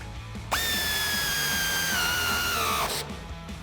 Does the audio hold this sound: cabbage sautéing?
no